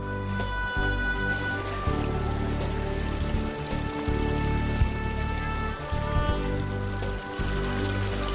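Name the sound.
water of a town square fountain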